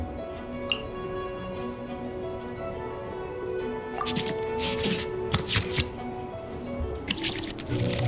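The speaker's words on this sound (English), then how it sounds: "we can select any number of cards in our hand to shuffle back into the draw pile, and then draw the same number of new cards" Playing cards in the Genshin Impact card game are shuffled back into the draw pile in several quick, crisp riffling bursts, fairly close, layered over a soft game background.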